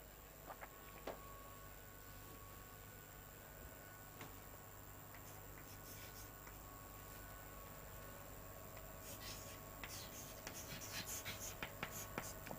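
Handwriting an accounting entry on paper during a partnership accounts lesson, heard as faint, steady scratching and ticking strokes over a low background hum, continuing throughout without talk.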